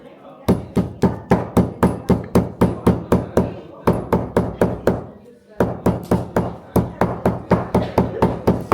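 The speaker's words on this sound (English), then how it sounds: "I need to use the hammer to remove the water from the slices." Rhythmic hammer blows pounding something soft and damp, regular thuds in three bursts with brief pauses between them, close and loud.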